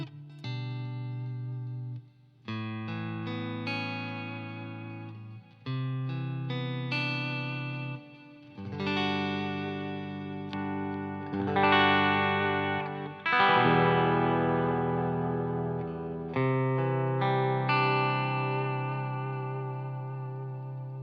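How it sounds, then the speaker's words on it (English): Clean electric guitar played straight into an amp, strummed chords and picked notes ringing out with slight breakup, a steady continuous passage with no talking. "So here's the clean signal guitar straight into the amp."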